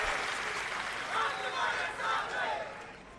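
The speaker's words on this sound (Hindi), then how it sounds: "एक बार ताली बजा के पंकजा ताई का स्वागत।" Crowd welcoming Pankaja Tai at a political rally at Gopinath Gad with applause, heard as a broad rushing wash of clapping and cheering that swells in waves, fairly distant and indistinct.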